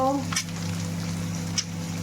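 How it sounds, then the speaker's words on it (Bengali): Onions fry with ginger-garlic paste and chili powder for an egg curry, giving a steady, close sizzle that carries on evenly for a short stretch with a couple of brief spoon scrapes. "পেঁয়াজটা একটু ভাজা ভাজা হোক ভাজা হয়েছে এবং আদা রসুন পেস্টটা দিয়েছি ও লঙ্কার গুঁড়োটা দিয়ে দেবো"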